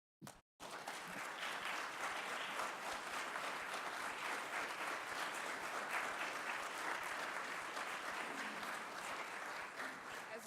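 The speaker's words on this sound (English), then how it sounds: "Just want everyone to give you a round of applause." A room at a county board of commissioners meeting breaks into sustained applause after a brief sound at the start, a dense, even wash of many hands clapping that carries on for about ten seconds.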